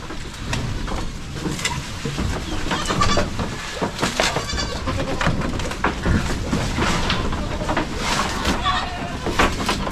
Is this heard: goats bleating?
yes